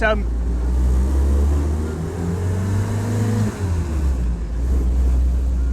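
A 77-year-old rebuilt Willys MB jeep drives with a loud, close engine drone and a shifting pitch as it revs and changes gear, running steadily throughout.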